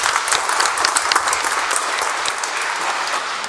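Congregation at an evening Sunday Mass breaking into sustained applause, dense and steady clapping from many hands throughout, no voices above it.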